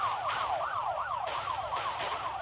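A wailing police car siren from the Smashy City monster rampage video game, looping its rising and falling sweeps loudly and steadily over a low rumbling game background.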